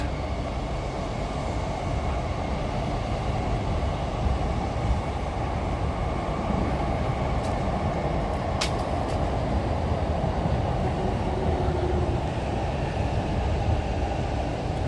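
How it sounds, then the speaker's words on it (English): A steady, low rumble of a Tokyo train carriage in motion, approaching Kanda station, fills the recording, with a constant hum and faint rattling, no voices. "Kanda is probably where this train is stopping now"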